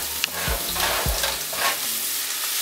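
Chopped onions frying in a pot as a base for rice, giving a steady close sizzle with a couple of soft knocks of a spoon against the pot.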